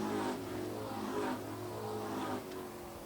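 Race cars at Airborne Speedway in Plattsburgh, New York, on a white-flag lap: a steady, fairly distant engine drone with slight pitch swells as the cars pass.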